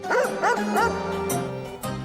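A black dog barks three times in quick succession on a dark road, facing a black chariot drawn by black horses, followed by a softer whimpering tail, close and fairly loud.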